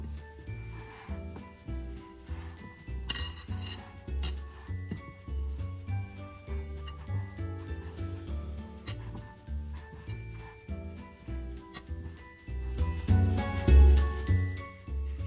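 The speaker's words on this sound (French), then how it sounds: "on va passer au mélange manuel. Alors on va écraser comme ça." Homemade chocolate paste is mashed and mixed by hand, with repeated scraping, rubbing and light clinking of a utensil against a bowl, close and uneven in rhythm, building louder toward the end.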